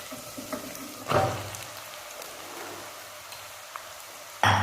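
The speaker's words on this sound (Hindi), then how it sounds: "अभी हम इसमें ऐड करेंगे आलू जो हमने मैश करके रखे थे, उन्हें भी अच्छी तरह फ्राई कर लेना है।" Mashed potatoes frying with onions in a pan make a soft, continuous sizzle, broken by two louder bursts of spattering and scraping near the start and end.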